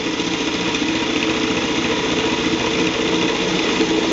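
A food processor whirs steadily, blending hazelnuts and cocoa powder into a vegan chocolate hazelnut spread, a continuous loud motor drone with a grinding texture and no talk over it.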